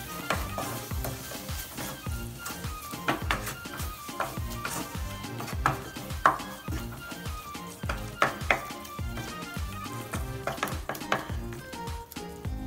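A spoon stirs a thick Kerala-style egg roast gravy in a pan, giving continuous scraping and clinking against the metal over a soft sizzle and background music.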